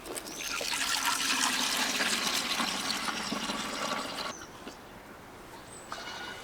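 Ginger water pouring through a sieve in a steady, fairly loud liquid rush for about four seconds, then thinning to a faint trickle with a few small drips near the end.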